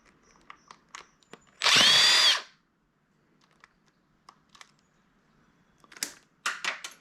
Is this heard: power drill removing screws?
yes